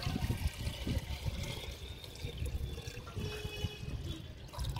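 Water poured from a steel bucket, a continuous splashing gush with uneven bursts, close and fairly loud throughout with no voices.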